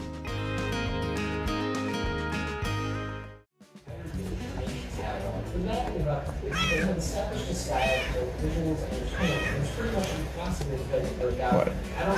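A cat meows several times in short rising cries, clear and close, after a stretch of music cuts off. The meows repeat at irregular intervals over a busy background.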